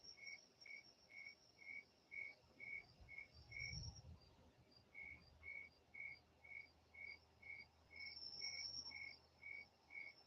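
Crickets chirp outside a house by a stream, a steady rhythmic pulse of regular high trills that repeats without a break, with a faint low thump partway through.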